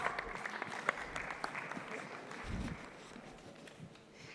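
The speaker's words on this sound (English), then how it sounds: "Big round of applause" Audience applause at a live Mohanlal tribute event in a Grand Hyatt ballroom in Qatar, steady clapping from a crowd that swells early and then slowly tapers off, with a brief low thump partway through.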